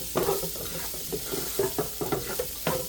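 Broccoli florets hit a hot stir-fry pan with onion: steady close sizzling under repeated scraping and clinking strokes of a utensil stirring the food.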